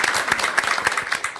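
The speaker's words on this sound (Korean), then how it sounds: "다시 한번 박수" Audience applause at a Buddhist event broadcast, a brief burst of steady clapping from a crowd of moderate size, close and fairly loud throughout.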